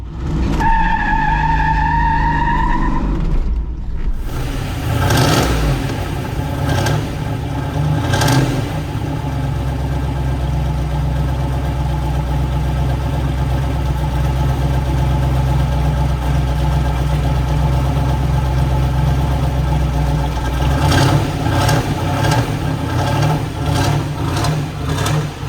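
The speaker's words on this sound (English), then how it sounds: "got the 360 horse LT-1 engine. It's got the 4-speed gearbox, factory 410 gears." A 1970 Camaro Z28 RS with a 360 hp LT-1 V8, four-speed gearbox and 410 gears burns rubber, its loud, sustained engine roar and tire squeal running steadily throughout after a brief tonal start, surging again near the end.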